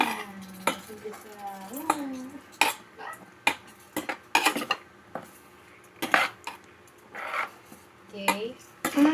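Ingredients being sautéed in a pan at home: a metal utensil clanks and scrapes against the pan in irregular bursts while people chat throughout.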